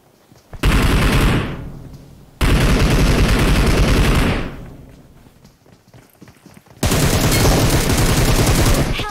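Bursts of rapid automatic gunfire in the PUBG Mobile battle royale game, loud and sustained, coming in three long volleys separated by brief lulls with no speech over them.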